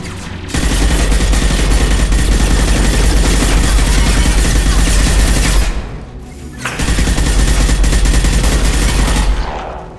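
Loud, continuous automatic gunfire from an upgraded gun in the Mass Effect video game, two long sustained bursts separated by a brief pause, with no talk over it.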